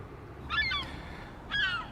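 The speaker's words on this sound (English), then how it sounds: "there are seagulls hovering overhead" Seagulls hovering overhead give two bursts of harsh, honking calls, one just after the start and another near the end, fairly close and clear above a quiet outdoor background.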